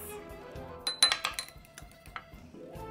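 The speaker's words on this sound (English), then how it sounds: "So let's whisk that up and let's add in our veggies." Ingredients are whisked in a bowl, giving a quick run of light metallic clinks and taps that cluster in the middle and then thin out.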